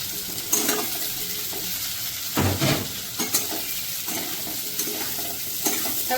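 Onion and capsicum fry together in a pan with a steady loud sizzle, broken by a few brief stirring scrapes and louder bursts of crackle.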